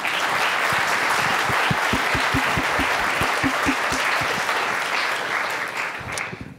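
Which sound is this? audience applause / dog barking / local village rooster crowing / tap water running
audience applause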